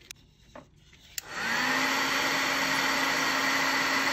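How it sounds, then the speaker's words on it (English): A heat tool switches on after a few soft clicks and blows a steady, loud whirring hiss while melting fusible webbing for embossing. "So you can see as I heat up that fusible webbing, it kind of starts melting."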